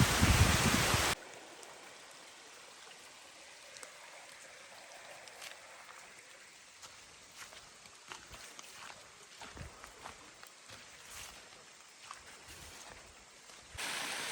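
Monsoon rain coming down steadily in a forest beside a river: a soft, fairly quiet wash of falling water with scattered sharper drip ticks and small splashes.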